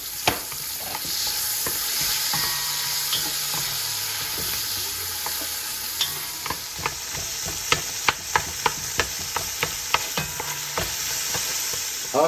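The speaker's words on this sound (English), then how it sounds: "In that same pot on medium heat now, we're going to put some onion for 3 minutes" Chopped onion sautéing in a pot over medium heat ahead of short ribs, a steady close sizzle with repeated sharp clicks and taps of a utensil stirring against the pot in the second half.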